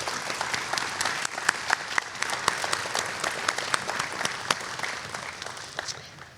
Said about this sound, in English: Please join me in a round of applause for our retiring police chief, Chief Davies.